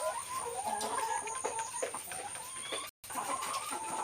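Laying hens in a small layer farm cluck and murmur continuously at moderate distance, a busy overlapping chatter of fowl with a brief gap near the end.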